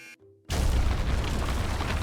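A bomb explodes in a Roblox game, a sudden loud boom after a brief quiet moment, followed by a dense, sustained rumble of debris and roar that stays loud to the end.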